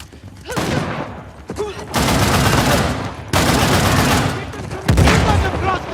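Loud bursts of gunfire in an Uncharted The Lost Legacy firefight, heavy rattling volleys broken by brief pauses, with shouted voices between and over the shots.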